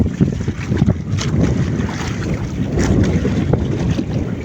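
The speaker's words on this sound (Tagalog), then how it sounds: "malaki talagang alon dito" Big waves and strong wind during a monsoon storm along the shore, gusts buffeting the microphone over churning surf, loud and continuous with crashing bursts.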